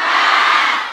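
A crowd at a religious lecture in Mekarasih, Malangbong, Garut raises a loud, sustained cheer that swells briefly and holds steady through the short moment, with no distinct single voices standing out.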